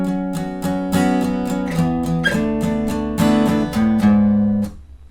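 Acoustic guitar strums the last three chords of a song's verse, each chord struck in turn and ringing out clearly and close, with no voices.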